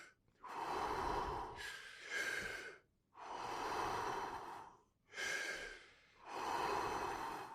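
Four deep, rapid, forceful breaths of the Wim Hof breathing technique, each a loud rushing inhale and exhale, close up and rhythmic with short pauses between.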